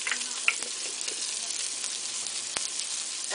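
Skin-on salmon seasoned with lemon pepper fries in a pan on a stove, a steady, close crackling sizzle with an occasional light tap of a utensil, no talking heard.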